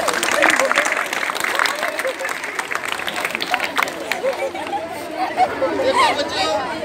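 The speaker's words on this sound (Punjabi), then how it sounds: "ਸਾਰੇ ਤਾੜੀਆਂ ਮਾਰੋ" A crowd at a local anti-drug pledge gathering breaks into steady applause, with dense overlapping claps and background chatter carrying through the whole stretch.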